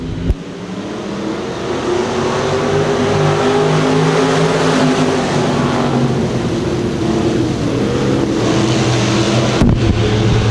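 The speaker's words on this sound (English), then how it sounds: "So 7 cars in this heat race for your Heiner Repair Service IMCA stock cars." IMCA stock cars roar together at the start of a dirt-track heat race at Thunder Hill, a loud, steady drone of several engines revving and holding pitch throughout, with no voices.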